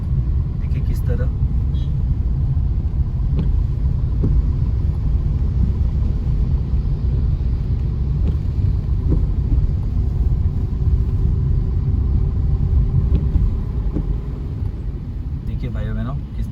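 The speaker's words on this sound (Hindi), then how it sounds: "किस तरह तूफानी हवा चल रहा है" A strong storm wind blows through bushes and trees, a heavy, continuous low roar and rumble buffeting close to the microphone for the whole stretch, with faint sharper rustles now and then.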